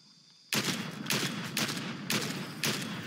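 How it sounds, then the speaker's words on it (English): Sniper gunfire from cliffs in a video game, a sudden burst of rapid shots followed by repeated loud volleys in a rough rhythm, close and dense. "What are we getting shot from now? Everyone's just on, like, the top of these cliffs, just sniping at each other."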